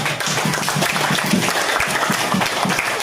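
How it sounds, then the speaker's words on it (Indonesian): A school class applauds together, a dense, steady wash of clapping from many students filling the room for the full three seconds without a break. "Oke, tepuk tangan."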